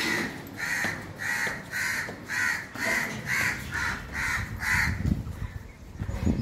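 A crow caws repeatedly from a rooftop garden after heavy rain, about a dozen evenly spaced harsh calls in a steady rhythm, fairly close and clear, with no talking.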